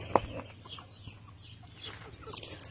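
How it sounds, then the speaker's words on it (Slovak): Leghorn hens and a rooster in a backyard flock, with one sharp loud cluck at the start followed by faint scattered clucks and rustling farmyard sounds. "už máme veľkého kohúta"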